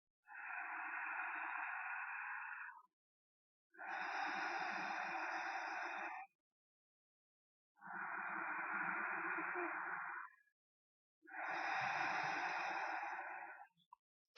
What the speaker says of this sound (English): And I'm going to restrict it with the victorious breath.